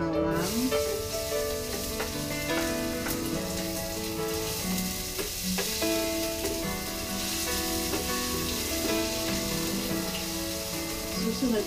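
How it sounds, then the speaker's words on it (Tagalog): Garlic fries in hot cooking oil with a loud, dense sizzle that holds steady throughout, some tonal hum and occasional clicks mixed in. "Siguraduhin lang po natin na mainit yung ating mantika. Talagay po tayo ng bawang."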